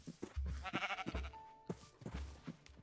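Sheep in Minecraft give several short, close bleats in quick succession, fairly faint and with no talk over them.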